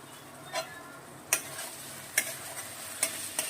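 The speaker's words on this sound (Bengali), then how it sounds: "এবার বাবা মশলাটা ভালোভাবে মাখিয়ে দিল" A spatula stirs and mixes spices in a pan, making a few faint, scattered scrapes and light taps over a quiet background, with no one speaking.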